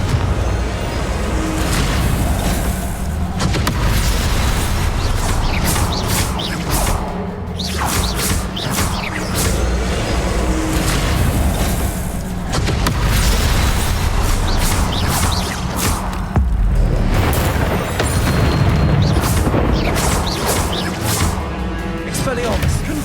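Confringo blasting curse explosions in Hogwarts Legacy, repeated bursts and thuds mixed with whooshing spell casts in a dense, loud combat din, with constant talk over the top.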